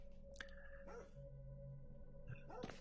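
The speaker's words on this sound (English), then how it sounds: "So there's a dog barking in the background somewhere." A dog barks in a Jack the Ripper 3D VR environment, a few sharp barks spaced apart at moderate distance over a steady ambient background hum.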